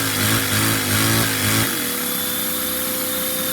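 A Lego single-cylinder vacuum engine with a starter spins up and revs, a loud steady buzzing drone that shifts pitch abruptly partway through, then settles into a high, even whine.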